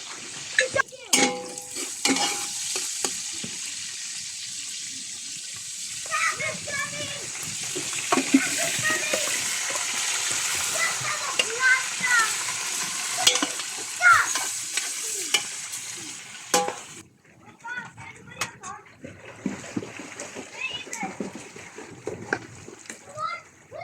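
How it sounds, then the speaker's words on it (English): Onions fry and sizzle in a pot over an open fire for mutton biryani, with a steady hiss and stirring scrapes, and people talking over it before it quietens toward the end. "I'm going to cook my onions until they are translucent, and then we'll add in the meat"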